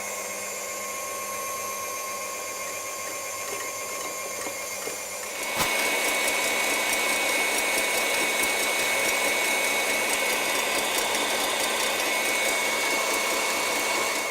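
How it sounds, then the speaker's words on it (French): An electric mixer whips egg whites into stiff peaks for a lemon and raspberry tart, starting up partway through with a steady, loud whirring drone that holds on without a break. "je vais commencer à faire fouetter mes blancs en neige"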